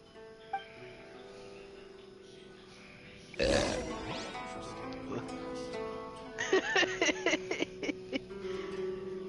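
A Genshin Impact character lets out a single loud burp, standing out above a quiet backdrop of in-game music and ambient tones.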